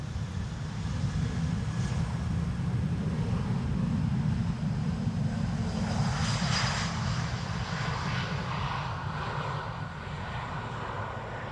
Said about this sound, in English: Going to the center runway is a 737-900 arriving from Berlin, KLM flight 1772.